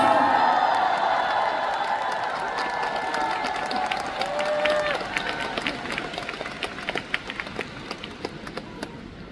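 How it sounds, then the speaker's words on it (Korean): A concert crowd applauds and cheers, with whoops and voices mixed into the clapping early on, then the crowd noise thins into scattered, distinct hand claps toward the end. "박스 어워즈 공로상 바로 여러분입니다. 박수!"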